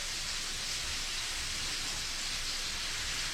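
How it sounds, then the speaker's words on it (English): Steady bright hiss of beef tenderloin sizzling in a hot pan, continuous and close, with no voices. "Hear that sizzle?"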